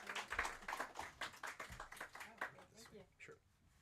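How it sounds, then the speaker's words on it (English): An audience gives a round of applause at a memoir-writing event, with moderate clapping running under people talking throughout. "Let's give her a round of applause."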